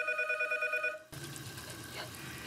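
A telephone rings with a steady electronic trill for about a second, then cuts off into low background noise.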